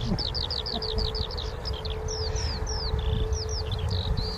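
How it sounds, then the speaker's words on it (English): Continuous bright, rapid warbling trills of skylarks singing overhead at dawn near an airport, a lively chorus above a steady low hum of wind and background noise. "definitely the skylarks keep going on"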